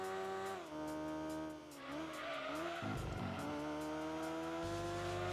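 An Alfa Romeo 155 touring car in Gran Turismo 2 races by with a loud, continuous engine drone that rises and falls through gear changes, joined by a stretch of skidding tire squeal midway.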